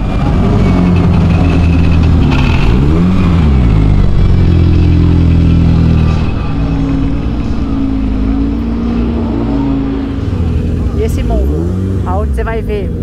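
A Mitsubishi Lancer Evolution 9 and a Nissan GT-R rev and accelerate nearby, with loud, throaty engine tones rising and falling in pitch over a constant rumble.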